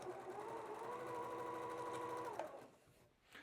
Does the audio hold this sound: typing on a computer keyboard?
no